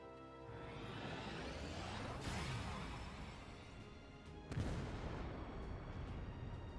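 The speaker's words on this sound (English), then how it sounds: "Primed and ready. Firing Hekatos." Hekatos weapon firing in the Shadowverse Worlds Beyond video game: two loud, sweeping blasts with long rumbling decay, the second sharper and heavier, with no voices over them.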